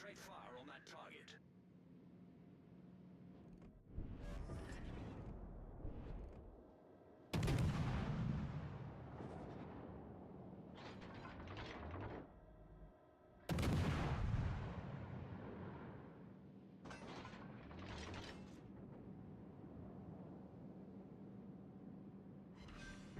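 Warship guns in a naval video game firing on a target: several heavy booming salvos spaced seconds apart, each followed by a long rumbling decay, with lighter gunfire between and a voice talking over the action.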